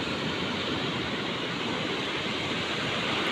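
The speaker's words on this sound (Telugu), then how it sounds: "అలలు కూడా చాలా పెద్దగానే ఉన్నాయి." Large sea waves surge onto a beach ahead of an approaching cyclone, producing a loud, steady, broadband roar of surf with no distinct breaks, heard alone without voices.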